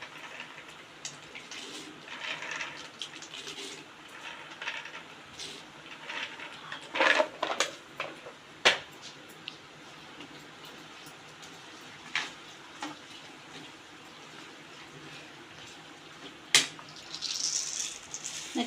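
Raw peanuts tipped into a hot pan while cooking pulihora, giving scattered rattling and crackling with a few sharp clatters, moderately close and without talk.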